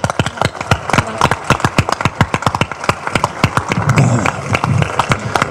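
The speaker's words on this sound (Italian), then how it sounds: "Un applauso per Silvia" Crowd applause at the closing election rally of a campaign in Mazara del Vallo: a loud run of sharp, quick hand claps that thickens into denser clapping toward the end.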